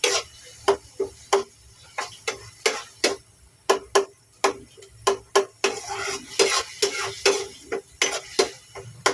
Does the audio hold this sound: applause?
no